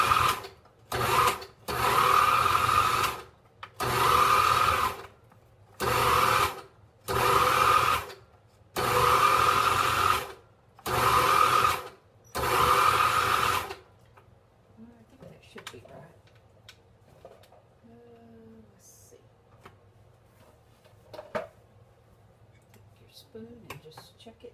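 A kitchen blender pulses tomatoes for hot sauce salsa in about ten loud, close bursts of whirring with short gaps between, then stops to quiet kitchen handling noises.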